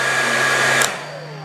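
An electric heater switched to its high setting gives a steady, loud blowing hum with a faint tonal whine, then a brief click near the end as the sound eases slightly.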